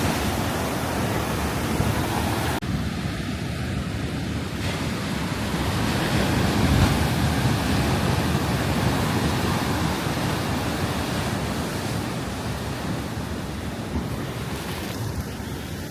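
Ocean waves crash and splash against the shore at Windansea Beach. Close, loud surf churns without a break, with wind buffeting the microphone and no voices.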